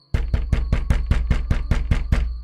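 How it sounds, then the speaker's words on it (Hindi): Ten sharp, evenly spaced knocks on a wooden door of a hut ring out loud and close in a steady rapid rhythm, with no other sound. "उन्होंने वहां का भी दरवाजा खटखटाया"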